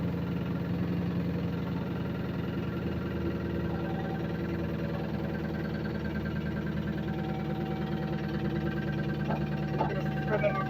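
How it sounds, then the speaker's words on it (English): A 2014 Jeep SRT8 Scat Pack engine idling on a lift with a fault from the bottom end, a steady close drone with a faint rhythmic tapping knock running under it and no talking. "there is a noise that's coming from the bottom of the engine"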